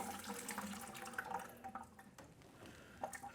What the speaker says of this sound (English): that's basically siphoning out the rest of the line